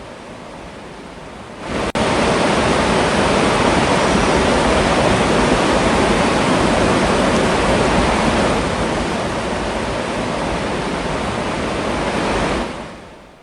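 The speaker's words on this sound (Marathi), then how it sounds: "सांडव्यावरील विसर्गामुळे अर्जुना नदीच्या पाणी पातळीत चांगलीच वाढ होतीये" Heavy water discharge roaring over the spillway of the full Arjuna dam in Rajapur, Ratnagiri, a dense continuous rush that starts abruptly, holds steady and loud for about ten seconds, then eases slightly before cutting off.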